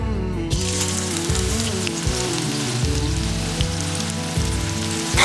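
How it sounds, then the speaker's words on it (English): Chopped onions drop into hot cooking oil in a pan and sizzle steadily, a loud close hiss like rain that starts suddenly and keeps crackling evenly under a low humming tone. "Now it's hot and I will put the onions in this pan."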